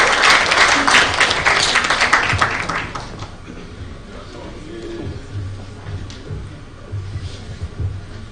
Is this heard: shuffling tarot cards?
no